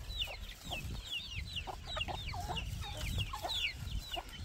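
Chicks and a turkey released into a pen on a farm, with busy cheeping and clucking of many small birds close by over a steady low rumble of background noise.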